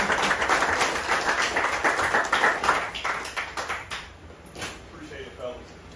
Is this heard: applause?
yes